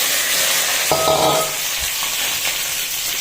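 Fish dropped into hot oil in a pan, a loud, steady frying hiss that swells briefly as the pieces go in, with a faint knock partway through.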